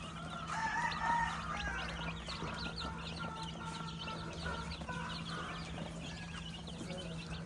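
Day-old chicks peeping in their pen, a dense continuous chorus of high chirps with occasional clucks from older fowl and a steady low hum beneath.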